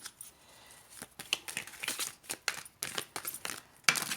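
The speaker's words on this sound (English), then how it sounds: "I'll give it one more shuffle" Oracle cards being shuffled by hand, a rapid run of crisp papery riffles and slaps, close and fairly quiet, with no talking.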